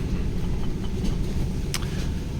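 Car driving out to a nearby soybean field, giving a steady low engine and road rumble from inside the cabin, constant and fairly loud with no talk.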